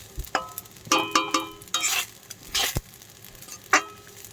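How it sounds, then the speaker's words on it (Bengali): Rice and carrots are stirred and fried in a pan, with scattered scraping and clattering strokes of a spoon over a soft background sizzle. "চালটাকে একটু ভালো করে ভেজে নিচ্ছি"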